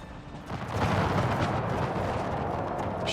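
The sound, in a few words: guards firing a volley in the video game Empire: Total War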